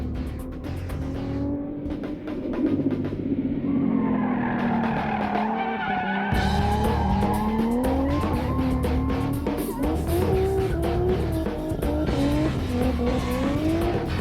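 A race car engine screams at high revs, pitch climbing and falling as it shifts, with tire noise mixed in, loud and close.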